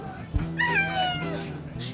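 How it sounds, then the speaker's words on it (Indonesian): A cat meows a few times, close by and moderately loud, in an Indonesian TV drama scene, with faint voices and background noise underneath. "kucing siapa nih?"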